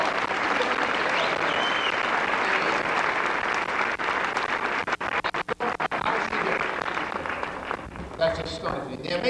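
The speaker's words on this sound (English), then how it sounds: "Let's give her a round of applause." A live audience at a science lecture gives a sustained round of applause for a volunteer named Jennifer after a bending trick, loud dense clapping that thins and stutters briefly in the middle before continuing, with voices mixed in.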